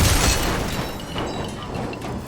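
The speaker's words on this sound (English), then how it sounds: "I didn't expect the explosion to make that much noise though" A loud explosion in the video game Deus Ex: Mankind Divided, opening with a heavy deep boom that rolls into a rumbling, debris-filled tail.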